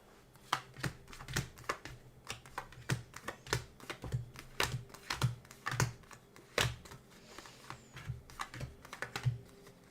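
Playing cards being separated and shuffled apart by hand at a table, giving a steady run of sharp, close clicks and taps with no talking.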